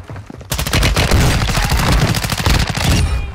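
Dense, loud automatic gunfire in the Warzone 2 battle royale game, rapid bursts of shots starting abruptly and continuing almost without pause, heard up close with no talk over it.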